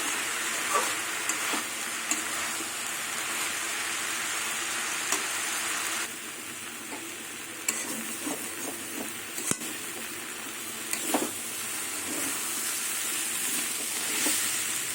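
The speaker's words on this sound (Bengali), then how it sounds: "এইভাবেই আমি ভেজে নেব কিছুক্ষণ" Flat beans, potato and onion greens fry in an uncovered pan, giving a continuous close sizzle and hiss with intermittent stirring scrapes and taps, no voices heard.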